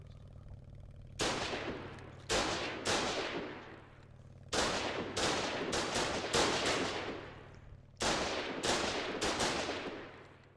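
Garrison building defenses in the game Foxhole open fire in loud, repeated blasts, about a dozen sharp shots in uneven clusters with short pauses between them, each trailing off briefly, and no voices.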